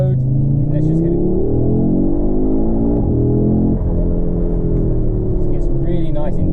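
Audi RS3 8Y fitted with an Eventuri intake accelerating on the road, a loud, steady in-car engine drone rising in pitch through gears with a dip at a shift, faint voice bits near the end.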